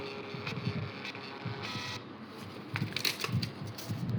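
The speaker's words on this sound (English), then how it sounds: "the breath analyzer has given the command of printing, and here we can see the receiving and then printing" A Bluetooth thermal printer runs off a breath analyzer's results, giving a series of short mechanical bursts and clicks with brief pauses between them, close by and fairly quiet.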